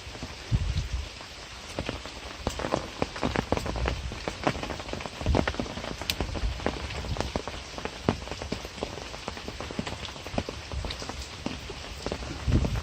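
Light rain patters steadily across a pond and its surroundings, with scattered heavier drops standing out against a continuous wash of rainfall.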